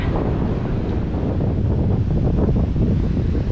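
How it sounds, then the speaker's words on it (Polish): Steady, roaring wind buffets the microphone high on a clifftop on the Reykjanes peninsula, Iceland, with a deep rumble that could be surf far below; no one speaks. "jest wiatr u góry"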